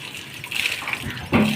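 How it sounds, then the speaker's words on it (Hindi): Water gushes steadily over an animal as it is washed, a close, continuous splashing flow that swells louder near the end, with no talking. "भी भाई हम इसके ऊपर पानी डालने लगे हैं।"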